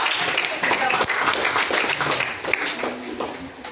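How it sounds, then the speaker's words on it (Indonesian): A classroom of students claps together for a classmate, a dense, fairly loud patter of many hands lasting a few seconds, with voices mixed in. "Tepuk tangan dong untuk Fitri"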